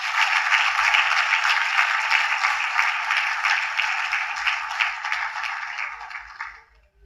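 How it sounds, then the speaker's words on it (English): An audience applauds a former Nigerian president, Olusegun Obasanjo, at an event: dense, steady clapping from a large crowd that holds for several seconds and then fades out quickly at the end. "Des applaudissements à la hauteur."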